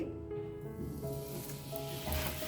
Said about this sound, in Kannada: ಇವಾಗ ಈ ತವೆ ಮೇಲ್ಗಡೆ ಹಾಕೊಳ್ಳೋಣ ನೋಡಿ ಈ ಥರ ಹಾಕೊಳ್ಳಿ